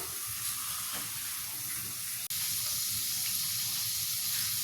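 Mustard seeds sizzle in hot oil left over from frying chicken, heated in a pan for a chicken curry, making a steady, loud, close hiss. A brief dip in the sound comes partway through, and the crackle carries on unchanged afterward.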